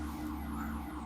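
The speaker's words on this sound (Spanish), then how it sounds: "aquí hay un ruido infernal entre una alarma, un motor" A car alarm and an engine outside sound as a steady, loud drone with a faint high tone on top, continuous throughout the short stretch and with no talk.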